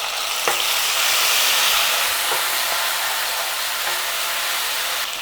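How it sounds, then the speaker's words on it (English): Tomatoes added to a hot pan of softened onions for a turkey berry and potato curry, giving a loud, steady, close sizzle with a few faint clicks of stirring and no talk. "we're going to add the tomatoes"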